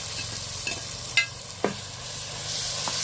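Onion with ground ginger, garlic and shallot paste sautés in a pan with a steady sizzle. A few distinct spatula scrapes and knocks stand out close by, and the frying swells slightly toward the end with no talking.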